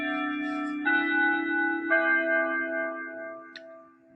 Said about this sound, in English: hold on, bell's ringing. It's gonna make noise.